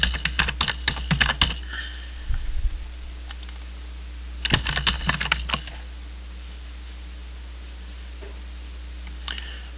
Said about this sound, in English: Type in the email that you use for the account.